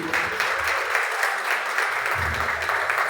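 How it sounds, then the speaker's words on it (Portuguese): An audience at a lecture in Bahia claps together in steady, sustained applause that carries on without a break, full and fairly close. "Palmas para o mestre. Palmas, bravíssimo."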